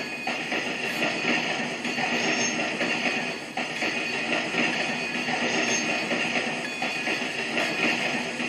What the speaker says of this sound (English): the sound of a train going over a switch